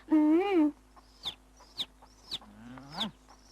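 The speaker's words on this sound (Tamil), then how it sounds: "குஞ்செல்லாம் அங்க இருக்கு, சத்தம் மட்டும் இங்க இருந்து வருது" Chicken chicks cheep in a few short, high, separate peeps. A lower, longer call comes first, and all of it is close and clear against a quiet background.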